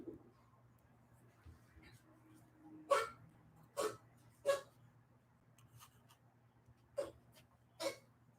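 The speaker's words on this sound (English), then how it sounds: "Dog's choking." A dog chokes and hacks in six or so short, harsh bursts spaced a second or two apart, fairly close and moderately loud, over a quiet background hum.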